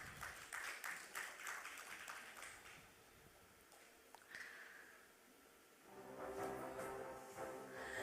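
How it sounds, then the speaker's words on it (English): Audience applause at an insurance awards ceremony, a steady crowd clapping that fills the room, easing briefly midway and then swelling again, fairly distant and diffuse with no talk over it. "Once again, with a roaring applause, I would request Mr. Sen to come up."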